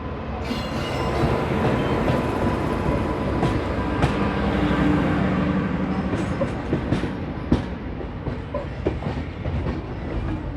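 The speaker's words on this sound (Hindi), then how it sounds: "सामने से आ चुकी है नांदेड़ श्री गंगानगर सुपरफास्ट" The Nanded–Sri Ganganagar superfast train passes close by at a crossing with a loud, steady rumble and rushing noise, with scattered clicks and clacks of wheels over rail joints throughout.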